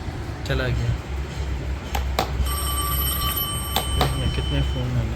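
A telephone rings in a workshop where an old dead lead-acid battery is being repaired, sharp repeated tones cutting in over steady background noise, with people talking nearby.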